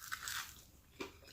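Teeth bite into a crunchy air-fried chicken wing from a Power Airfryer XL, making a close, quiet crackling crunch followed by a second short crunch.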